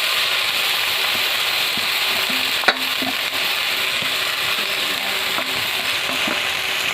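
Raw moringa greens with green chili frying in a pan, a steady loud sizzle throughout, broken by a sharp clank of a utensil and occasional stirring scrapes.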